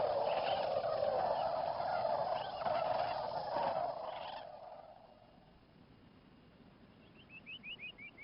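A large flock of sandhill cranes on a Texas wildlife refuge in winter calls in a dense, rolling chorus that fades away after a few seconds, and a few more rattling calls follow near the end.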